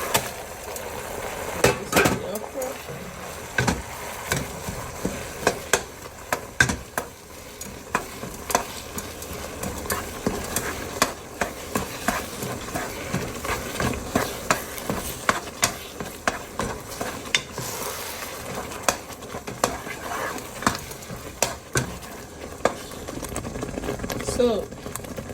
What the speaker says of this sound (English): So right now I'm just going to be adding this okra.